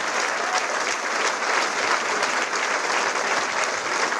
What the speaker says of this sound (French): Hervé de Voltaire au piano. On applaudit.